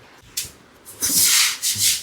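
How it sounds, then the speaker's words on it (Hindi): A broom sweeps a wet floor after rain, giving several coarse, brushy swishing strokes in uneven bursts, close by and fairly loud. "तो गाइस ये बारिश खत्म हो गई है, तो ये झाड़ू लगा रही है।"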